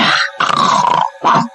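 A man imitates a dog barking with three rough, grunting bursts, the middle one longest, loud and close with short gaps between them.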